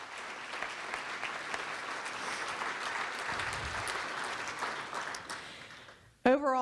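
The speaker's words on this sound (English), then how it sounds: "That deserves a round of applause." An audience at a county government address claps in a sustained round of applause that gradually fades out, followed by a voice starting to speak at the very end.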